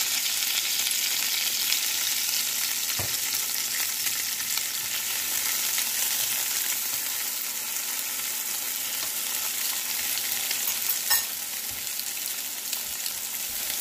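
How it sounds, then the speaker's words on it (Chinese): Onions and raw chicken slices fry in a pan with a steady, even sizzle throughout, broken by an occasional faint tap or stir, with no talking. "将洋葱先放入，洋葱炒至微黄，把生鸡片加入"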